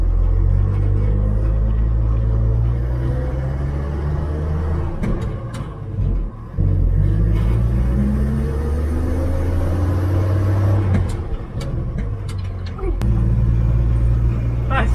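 A 1959 Chevrolet Apache truck accelerates hard from inside the cab with a loud, low engine rumble that climbs through the gears, with brief dips at the shifts and someone talking over it.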